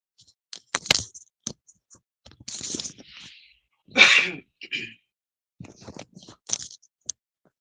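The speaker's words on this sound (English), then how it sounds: "I had to clear my throat." Someone clears their throat in a few sharp, harsh bursts separated by short silences, close and fairly loud.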